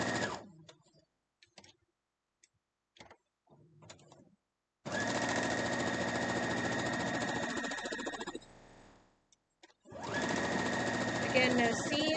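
A home sewing machine stitches straight through a quilt block for a Harry Potter spool quilt, with two long steady runs of motor whir separated by a short pause, preceded by scattered handling clicks and brief talk.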